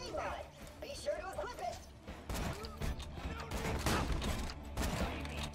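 Rifle fire in the shooter video game Borderlands 2, bursts of shots and impacts layered under excited player talk throughout.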